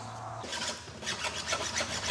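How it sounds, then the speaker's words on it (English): A hand file rasps back and forth over a chainsaw chain as it is sharpened before cutting firewood, giving a steady series of close, scratchy metal strokes with no voices. "My dad is sharpening the chainsaw because we're about to cut some firewood to take on our camping trip."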